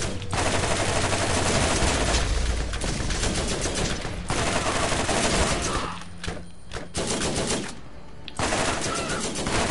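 Rapid automatic gunfire in the shooter Borderlands, inside General Knoxx's secret armory: dense, loud volleys of bullets roar almost continuously, broken by a few brief pauses before the shooting resumes.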